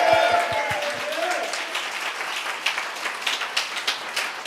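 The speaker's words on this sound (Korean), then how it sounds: "이 복이 임하기를 원하신 분들만 하나님께 영광 박수 올립시다" Congregational applause at a Korean Sunday church service, starting as a voice fades out at the opening, then a scattered crowd clapping that thickens into uneven rhythmic claps.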